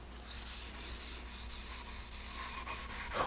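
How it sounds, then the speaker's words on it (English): A rag wiping a simple varnish finish onto wood, a soft steady rubbing swish repeating in gentle strokes, close and quiet, with no talk. "I'm going to apply a finish, just a very simple wiping varnish finish."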